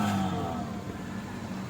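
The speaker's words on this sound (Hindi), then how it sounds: "मिसिंग करती है गाड़ी।" A Toyota XLI engine runs with a misfire, giving a close, steady mid-pitched drone over a short stretch with no voices.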